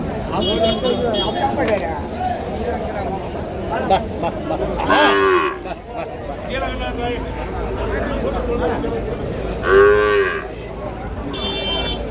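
Native cows with calves at the Vaniyambadi cattle market give two clear, loud moos several seconds apart over a busy background, while someone talks nearby.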